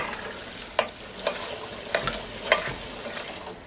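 Cranberries with juice and pulp simmer in a pot, giving a soft steady bubbling hiss with a few brief clinks or pops spaced about every half second, fairly quiet and close, no talking.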